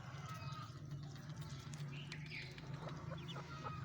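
A hen clucks close by beside her chicks, soft repeated calls over a steady low hum, with faint chirps mixed in.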